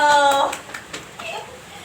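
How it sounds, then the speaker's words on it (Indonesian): Children in an elementary classroom clap briefly after a teacher's voice, a few scattered claps fading quickly while a voice speaks over the start. "beri tepuk tangan ya, ayo"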